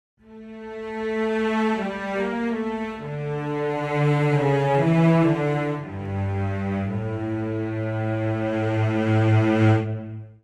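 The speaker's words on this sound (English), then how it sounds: "So here are the celli." Cello section from EastWest Hollywood Strings 2 in the standard Movie Mix, playing sustained legato notes that step down to a low held tone, rich and resonant with vibrato, full and close with no talking.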